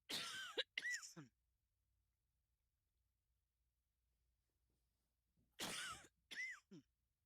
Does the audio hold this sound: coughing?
yes